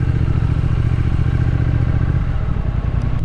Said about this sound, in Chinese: 这个引擎的声音啊， 也是给120分的。